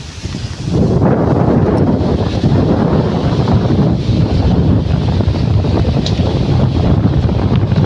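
Loud, gusting storm wind roars against the microphone over a constant rushing wash of heavy rain, continuous and close.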